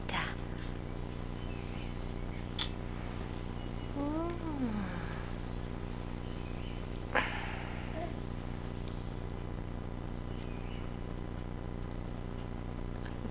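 A cat gives a brief meow over a steady background hum, with a faint chirp or squeak later; otherwise quiet.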